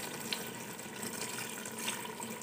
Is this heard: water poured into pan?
yes